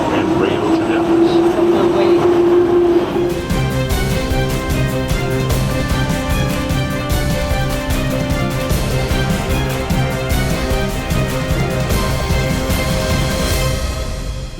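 An automated airport train at Dallas Fort Worth airport rumbles and clatters along the track, loud and close, with a rising electric whine over steady rolling noise throughout.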